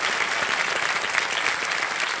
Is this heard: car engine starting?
no